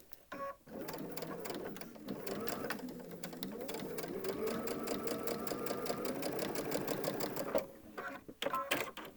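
A sewing machine runs steadily along a folded fabric edge, its rapid needle clatter continuous and close for several seconds, with brief pauses and some handling sounds at the start and end.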